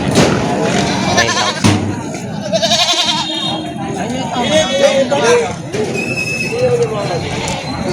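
Goats bleat repeatedly at a livestock market in Padre Garcia, Batangas, wavering calls rising over a busy crowd with people talking throughout.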